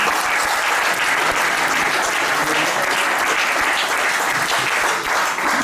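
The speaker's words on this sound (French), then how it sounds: "acclamez Jésus pour le témoignage" Loud, sustained applause from a church congregation after a testimony during a service, a dense steady wash of clapping that fills the whole stretch without pause.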